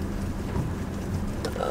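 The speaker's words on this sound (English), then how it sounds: "I have to walk in the rain." Steady rain falls outdoors near parked cars and a truck, making a dense, even hiss throughout with a faint low rumble beneath.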